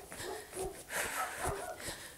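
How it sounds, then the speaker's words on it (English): Several household dogs bark and yip at once in the background, their overlapping calls muffled and somewhat distant, coming in short bursts across a couple of seconds. "all the dogs are barking."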